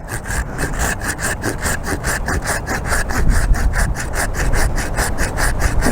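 A hand saw cuts through a tree branch on an allotment, its fast, even back-and-forth strokes rasping loudly and close by without a break.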